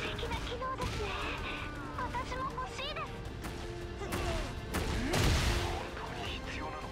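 Gunfire rings out in a Tekken 8 story battle, with bursts of shots and crashes mixed into a dense, busy game soundtrack of effects and voices.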